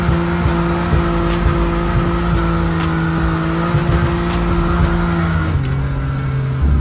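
A drift car works through a corner with a loud, sustained engine drone and a steady tyre squeal, then the pitch drops as the throttle eases near the end, heard close and continuous.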